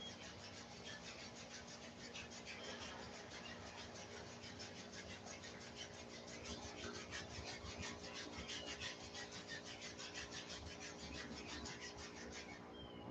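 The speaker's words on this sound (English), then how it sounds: "beginning to rub the palms of the hands together" Palms of the hands rub together steadily at chest level during a Kundalini yoga session, a continuous close, soft swishing friction with a fast back-and-forth rhythm and no talk.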